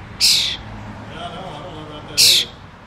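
A released crow gives two loud, harsh caws spaced about two seconds apart, close to the microphone, with quiet background between calls.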